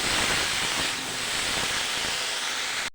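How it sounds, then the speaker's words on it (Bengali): Turmeric frying in hot oil in a pan during home cooking, a loud, steady close-up sizzle and hiss that runs without a break and cuts off sharply at the end. "দিয়ে দিলাম হলুদটা দিয়ে ভালো করে আমি একটু ভেজে নেব"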